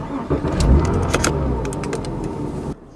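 A Porsche engine idles steadily and close by inside the car, a continuous low rumble with a few brief clicks and rattles layered on top, ending abruptly just before the clip finishes.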